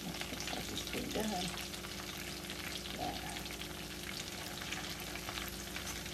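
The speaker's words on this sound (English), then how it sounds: "she's going to finish frying these last ones up" Potato bites fry in a pan with a steady, busy sizzle and crackle of hot oil that continues without a break, close up and even in level, with a few faint clinks underneath.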